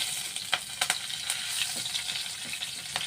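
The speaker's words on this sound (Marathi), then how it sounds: "आता आपण जिरं घालूया जिरं घातलं की कढीपत्ता आपण हा कडीपत्ता थोडा हाताने तोडून घालायचा" Cumin seeds and hand-torn curry leaves sizzle in hot oil, a close, steady frying hiss with a few sharp crackles and spatters, no talk.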